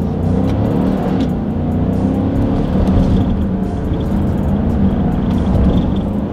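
A 2020 Dodge Durango SUV engine revs hard and accelerates continuously on a straightaway, loud and close, with brief dips in the roar as paddle-shifted gears change.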